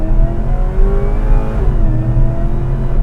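The 650-horsepower supercharged LSA V8 of a Chevy SS sedan revs loud and close, a deep steady roar with the pitch rising and dipping through three seconds.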